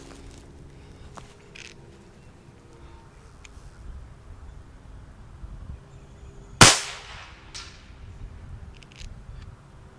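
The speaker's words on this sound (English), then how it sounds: "all of that power pushed through a non-baffled shroud is going to create an ear-ringing bang" A Karma Red Panda .30 air rifle fired through a non-baffled shroud gives one sharp, loud bang that rings out briefly against an otherwise quiet outdoor background.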